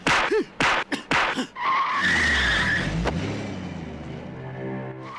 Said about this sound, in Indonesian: aksi pun berlanjut dengan adegan kejar-kejaran mobil di mana Penny mampu menggulingkan mobil anak buah Tiger yang mengejarnya